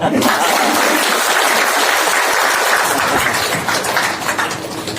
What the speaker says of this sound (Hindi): ताली बजा दो